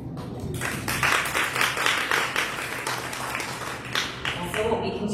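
Audience applause follows a poetry reading, dense continuous clapping from a crowd that holds steady for several seconds with slight swells.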